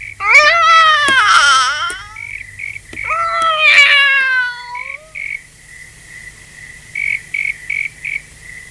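A cat meows twice in long, wavering cries, close and loud, over a steady high electronic hum with faint rhythmic beeps afterward.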